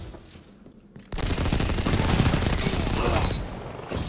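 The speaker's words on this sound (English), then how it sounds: "that is a fusion rifle shot that you don't have" A fusion rifle discharges in a Destiny 2 Rumble match, a loud burst of crackling gunfire that erupts suddenly after a quiet second and sustains for about three seconds before trailing off.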